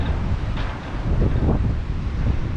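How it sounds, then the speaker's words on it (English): A strong northeasterly wind buffets the microphone beside a choppy Bristol Channel at Cardiff Barrage. The loud, steady rumbling gusts mix with a wash of surf and no voices. "I think it's the northeasterly wind"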